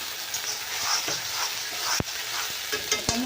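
Ground masala is dry-roasted in a pan for a besan-ball curry, with a low steady sizzle and several distinct scrapes and knocks of the spoon against the pan.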